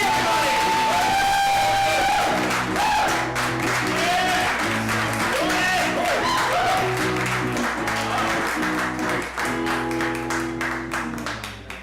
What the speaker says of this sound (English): So let's give him a big round of wonderful applause.